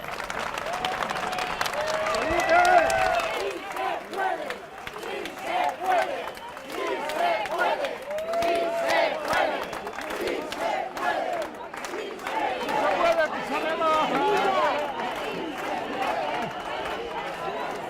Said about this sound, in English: You can hear people in the crowd chanting in Spanish, "Yes, we can."